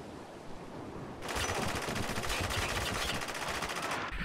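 Sustained automatic gunfire from a multiplayer match in the Spec Ops: The Line video game bursts in after a moment of near quiet and runs as a loud, rapid, continuous rattle before cutting off.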